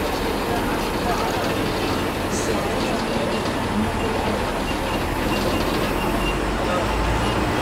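A Maharashtra ST bus drives across the Bhayander East–West bridge on its run to Jalgaon, giving a steady, loud, unbroken engine and road rumble from start to finish.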